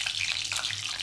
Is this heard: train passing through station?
no